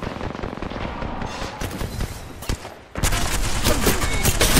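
Rapid gunfire in the mobile battle royale game BGMI, dense loud bursts of shots that pause briefly, then resume as heavier, continuous fire.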